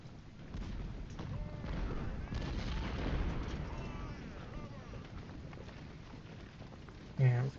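Civil War artillery fire in Ultimate General Civil War at the Battle of Shiloh, rumbling booms rolling under a busy battlefield din, with a sharper burst near the end.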